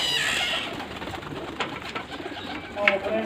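Pigeons coo softly nearby amid a busy background murmur, with a few brief sharper calls, no clear speech.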